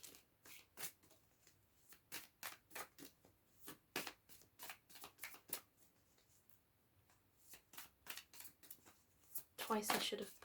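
A deck of tarot cards being shuffled up close in a series of quick riffling bursts with short pauses between them, ending in a denser flurry.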